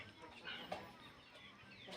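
Chickens, both young and grown birds kept together on a farm, cluck in short soft calls amid a busy background, with faint speech nearby.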